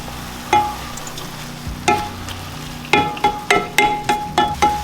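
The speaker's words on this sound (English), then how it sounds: "we're just stirring this a little bit. We're letting it cook for a few minutes to let the onion and garlic get a little soft" A spoon stirs onion, garlic and ginger frying in a pan, scraping in a steady rhythmic series of close, distinct strokes over a soft background sizzle, sparse at first and then quickening into regular repeated scrapes.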